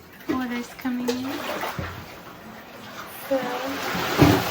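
Seawater washing into a beach cave, a broad wash of surf noise with a louder surge near the end, under a child's speech and brief voiced sounds.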